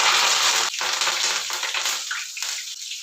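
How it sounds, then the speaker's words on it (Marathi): Curry leaves with their stalks frying in hot oil, giving a steady close hiss and crackle that stops abruptly partway through, then a quieter, uneven sizzle with a few short pops. "कढीपत्ता आहे काड्या साईड घेतलेला आहे तो पण तळून घेऊ"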